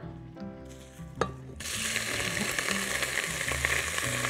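Meat dropped into hot corn oil in a pot, a sudden loud, dense sizzle of frying that starts abruptly after a brief clink and continues steadily, close and alone.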